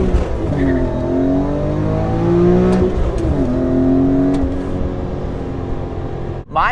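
A BMW E46 M3 engine heard from inside the car, loud and close, revving with a rising pitch before a downshift into third, then a quick blip as the rising drone resumes.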